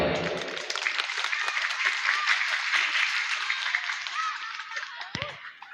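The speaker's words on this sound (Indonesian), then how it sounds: "tepuk tangan untuk" Audience applause at a lively religious gathering in Situbondo, a burst of dense clapping that starts loud and gradually thins out, with a voice briefly heard near the start.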